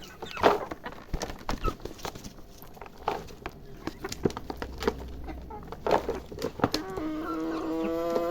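Portuguese chickens on a farm clucking and calling nearby amid rustling and movement, with a person talking over them.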